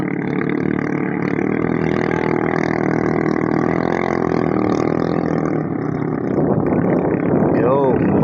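A racing boat engine idles steadily with a low, even rumble at a village boat race, while someone talks over it throughout.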